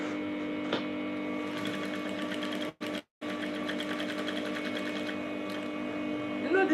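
An industrial sewing machine sews fabric for a lapel top with a loud, steady mechanical hum and rapid needle chatter, pausing briefly midway before running on.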